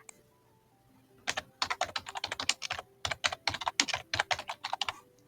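A computer keyboard is typed on in a quick, uneven burst of close, crisp keystrokes after a quiet opening second.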